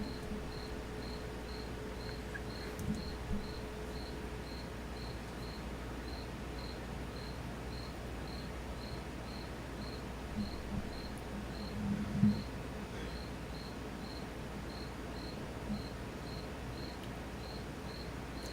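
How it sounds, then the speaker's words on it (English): A cricket chirps steadily indoors, a faint, evenly spaced high trill repeating throughout a quiet room, with a few soft bumps and no talking. "Sorry about the cricket if you guys can hear that."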